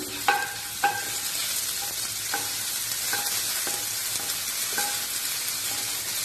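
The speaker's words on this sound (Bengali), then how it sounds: "তেল গরম হয়ে গেছে, আমি রসুন আদাটা দিয়ে দিলাম, একটু ভেজে নেব।" Garlic and ginger fry in hot oil for a momo soup, a steady bright sizzle close by, punctuated by repeated sharp clinks of a utensil against the pan roughly every half second to second.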